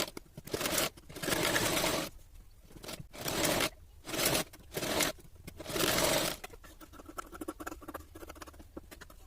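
A sewing machine stitches the outer sides of princess-cut blouse pieces in several loud bursts of rapid patter, with brief pauses between runs and quieter handling rustle at the end.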